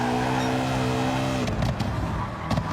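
Roadster race car in Gran Turismo 7 roars with a loud, rising engine note as it powers out of a corner. The tone shifts with gear changes, and brief tyre noise cuts through near the end.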